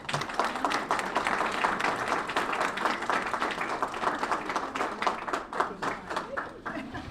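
Warm applause from an audience at a year-end committee meeting, brisk overlapping claps filling the room at a steady level throughout.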